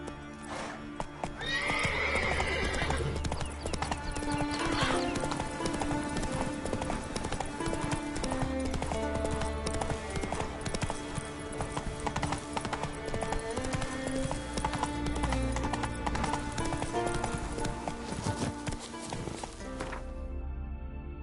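Hooves of a horse galloping in The Witcher 3: Wild Hunt on PS5, a steady clip-clop rhythm with occasional neighs, heard over a continuous game music score with no talking.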